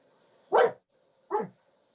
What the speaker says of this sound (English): No, that's Joe's dog